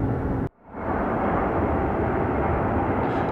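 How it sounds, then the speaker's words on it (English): Boeing 777 jet engines at takeoff at Atlanta Hartsfield airport, a broad continuous roar in the distance, briefly dipping before returning to a steady rumble, no voices. "the rumbling roar of the 777 engines over there"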